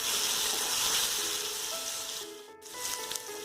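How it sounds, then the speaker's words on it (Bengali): A steady hiss of ginger garlic paste frying in a pan, loud and continuous, briefly dipping before the sizzle resumes. "আদা রসুনের পেস্টটা দিয়ে 1 মিনিটের জন্য এটাকে ভাজতে থাকবো।"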